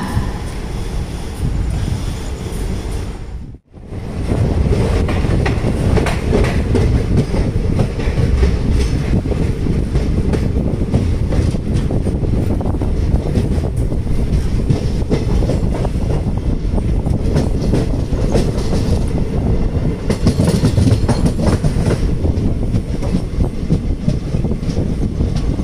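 A sleeper class train on the Lingampally to Kakinada run keeps up a loud, steady roar of wheels and rattling carriages, heard from inside, with a brief drop in the sound near the start.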